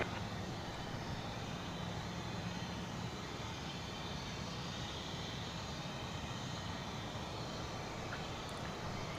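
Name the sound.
airplane taxiing at DFW Airport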